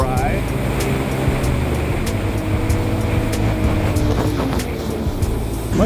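A Sea-Doo Spark personal watercraft runs flat out at about 49 miles an hour in sport mode, its engine a continuous loud drone mixed with rushing wind and water spray, never letting up.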